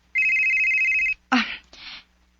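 A cellphone rings with an incoming call, one steady electronic tone lasting about a second, loud and close. Brief voice sounds follow right after it.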